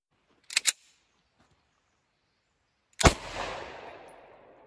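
Two sharp gunshots from a pistol firing 1950s Hungarian 7.62x25 Tokarev surplus ammunition outdoors: a quick double report early on, then a single loud close shot about two seconds later that echoes away, with no talk.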